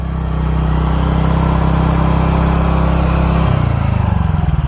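A TVS Ntorq scooter engine idles loudly up close with a steady low hum and rhythmic mechanical ticking, a fault noise, that wavers near the end.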